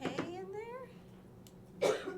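A person deliberately acts out a cough, giving a short, harsh burst at the start and another near the end, with vocal sounds in between.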